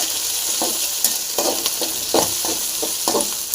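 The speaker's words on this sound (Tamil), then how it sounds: "இஞ்சி போடலாம் இதெல்லாம் போட்டு நல்லா ஃப்ரை பண்ணலாம்" Ginger and herbs fry in a pan for kuppaimeni soup, with a constant bright sizzle and repeated close spoon scrapes roughly every half second, loud and clear, with no voices.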